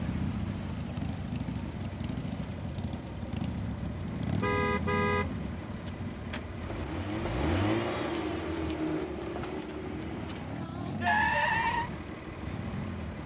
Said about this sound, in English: Eddie, car coming!